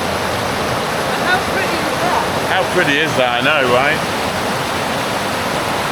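A mountain river rushes steadily through forested mountain terrain, a loud continuous wash of water that fills the whole scene while people speak briefly over it.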